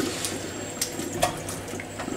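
A faucet runs steadily into a sink while dirty, greasy hands from bicycle work are rinsed under plain water, with small splashes and rubbing close by.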